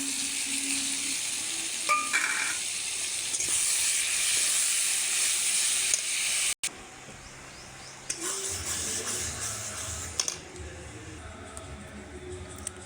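Ground masala paste with salt, turmeric and chilli powder hits hot oil in a pan, a loud steady sizzle that fades and gives way to softer frying and stirring scrapes, with no talk over it.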